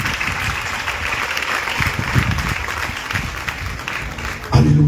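A church congregation applauds and acclaims during a worship service, a steady wash of clapping and crowd voices throughout, ending in a sudden louder burst near the close.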